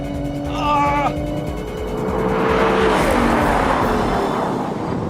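A Toyota Supra and a Ford Mustang GT race on track, their engines roaring loud and close in a steady sustained drone with a rising pitch as they pull, while someone talks excitedly over the noise.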